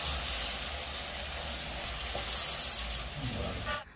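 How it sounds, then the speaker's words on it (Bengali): Goat meat fries in a pan with salt and turmeric, a close, steady sizzle with occasional clinks and stirring sounds toward the end. "মাংসটা ও লবণ হলুদ দিয়ে ভেজে নিচ্ছে"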